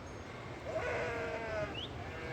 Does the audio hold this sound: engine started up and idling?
no